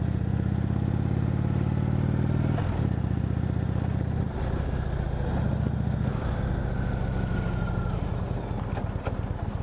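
An Indian Roadmaster motorcycle with an unmodified 111 engine rumbles steadily and loudly throughout, a low, thick pulsing drone with brief shifts in tone while riding, no voices heard.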